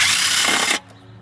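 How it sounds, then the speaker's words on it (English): A cordless drill spins loudly and close up while backing bolts off a Mercury Mountaineer's 4.6 intake plenum, a steady high whir that stops abruptly partway through, leaving quiet room noise. "I'll go ahead and pop these bolts off real quick. Use my cordless drill."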